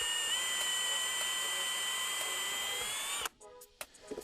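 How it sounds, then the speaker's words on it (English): A power drill bores into the wooden leg of a homemade ladder with a steady, close, high whine that stops abruptly, followed by a few light clicks and handling knocks. "I'd like to have the drill make its own threads in there"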